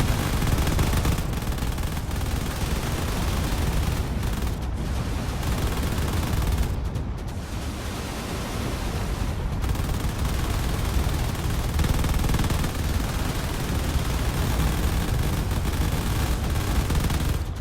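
Turrets in a video-game space battle fire steadily on a battleship, a dense continuous barrage of rapid gunfire and booming impacts lasting the whole stretch with only brief dips.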